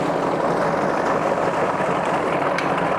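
A 1985 Johnson 115 hp outboard motor with a 20-inch shaft runs in reverse, a loud, steady, broadband engine roar with churning water, no voices over it.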